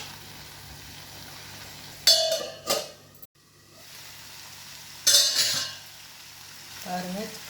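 Green chilli chicken cooking in a pan in a home kitchen, quiet steady sizzle broken by a few loud scraping stirs of a utensil against the pan.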